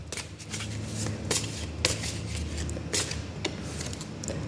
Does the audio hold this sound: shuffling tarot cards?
yes